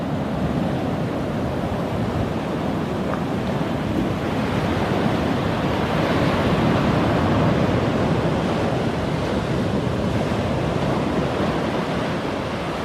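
Rough ocean surf washing against a seaside wall at Long Bay, a continuous heavy wash of breaking water mixed with wind buffeting the microphone, loud and steady.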